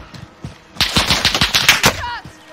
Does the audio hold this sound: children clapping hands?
no